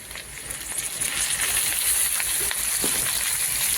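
Ridge gourd dropped into hot oil with ginger paste, a steady bright sizzle that swells early and then holds loud and close throughout, with no talking.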